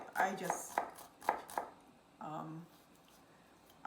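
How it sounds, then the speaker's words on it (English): Garlic being chopped finely with a knife on a board, a few quick close cuts early on, then quieter; a voice speaks briefly in the middle. "just chop it fine"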